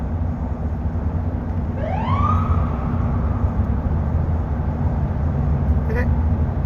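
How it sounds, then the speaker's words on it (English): A police siren gives one quick rising whoop over a loud, steady engine rumble, then a brief second blip a few seconds later. "he hit the siren real quick"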